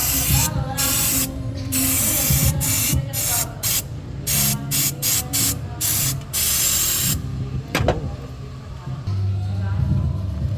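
Cleaner is sprayed onto a car's diesel EGR valve in repeated hissing bursts of varying length, loud and close, with short pauses between and someone talking in between.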